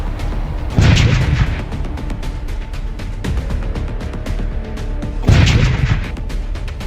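Gunfire and bomb blasts at a mining company site, two heavy booming bursts a few seconds apart over a constant rumbling, crackling background.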